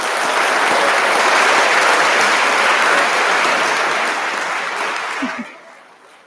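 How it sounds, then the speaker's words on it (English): An audience applauds at a school honors assembly, a loud, full wash of clapping that holds steady, then thins and dies away near the end. "please recognize the accomplishments of these students with your applause"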